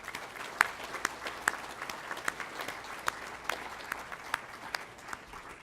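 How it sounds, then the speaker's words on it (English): Conference audience at a carbon pricing and prairie agriculture summit claps, scattered individual claps standing out sharply over a softer wash of applause, moderately distant and fairly quiet. "I think we all have to give APAS a big round of applause for what they've done here"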